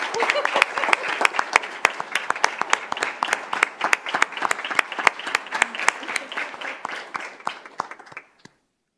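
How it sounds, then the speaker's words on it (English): Attendees at a school governing board meeting give a round of applause, a sparse room of individual claps with sharp distinct hits that gradually thin out and stop. "Another round of applause for these individuals."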